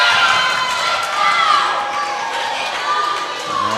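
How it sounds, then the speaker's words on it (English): A crowd of fans at a Somerset versus Casey County high school volleyball match cheers and shouts loudly and continuously, high-pitched voices blending into a sustained roar. "Looks like we've also got some fans, cheering on our team."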